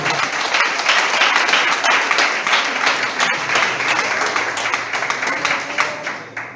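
A church congregation breaks into loud, dense applause, many hands clapping steadily for several seconds close by, fading slightly at the end.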